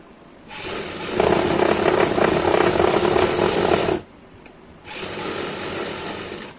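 A sewing machine stitches an umbrella frock in a loud, steady whir that runs for a few seconds, pauses briefly, then starts up again close by, with no talk.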